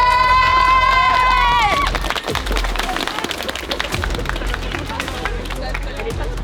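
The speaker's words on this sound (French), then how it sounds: "On peut les applaudir." A crowd at an outdoor street demonstration claps for the police, scattered clapping rising amid steady crowd noise after a brief shrill whistle-like tone at the start.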